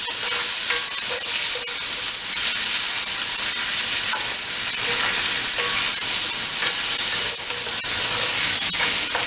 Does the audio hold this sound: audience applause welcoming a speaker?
no